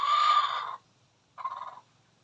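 A nearby chicken gives two short calls, the first longer and louder, the second softer, separated by a brief pause.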